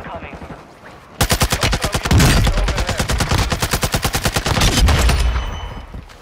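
Rapid bursts of gunfire in a shooter video game, loud and close, with sustained automatic fire broken by short pauses and heavier booms in the middle.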